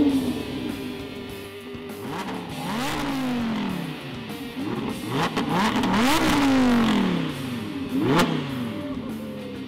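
A supercar engine fired up by a start-stop button while driving in Switzerland's Black Forest, cranking and then revving hard in repeated rising and falling sweeps, loud and close with no talking.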